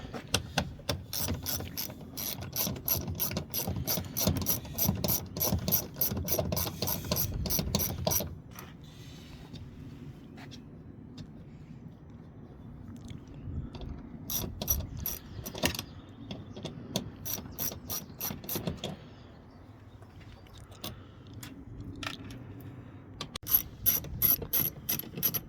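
10mm socket on a ratchet backing out bolts on a Nissan X-Trail T32 folding mirror module: fast rhythmic clicking in close bursts, pausing, then resuming, with faint handling noise between runs.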